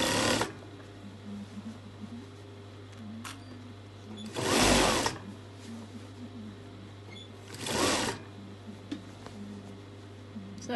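A sewing machine stitches a full circle skirt, its low steady hum running throughout with two louder brief bursts of sound breaking in midway.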